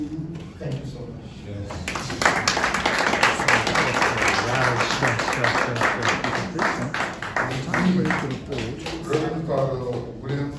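A conference audience claps for a priest who has just spoken on taxation, steady applause running the whole time with voices mixed in.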